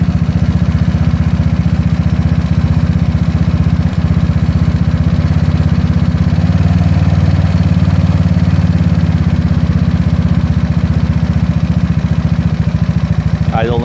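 A GY6 scooter engine runs loud and close, holding a steady raised drone throughout, with no clear separate revs standing out.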